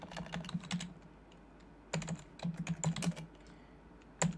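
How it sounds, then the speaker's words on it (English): Typing on a computer keyboard, with close bursts of quick clicking keystrokes separated by short pauses, alone with no talking. "you're going to type settings."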